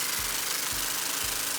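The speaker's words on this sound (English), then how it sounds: "then just got to start the engine back up." A small pull-started gasoline engine on a free pressure washer runs steadily, a constant loud drone with faint low thumps recurring about every half second.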